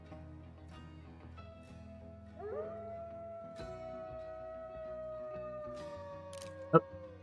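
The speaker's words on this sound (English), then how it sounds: "Oh, yep, the wolves are out and about." Wolves howl in the game theHunter on the Medved map, a long rising then sustained wavering cry that sounds fairly close over quiet background ambience, ending with a brief sharp click.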